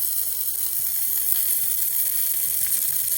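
Beef stir-frying in a teaspoon of oil over high heat, a steady loud sizzle with faint scraping and stirring, no voices.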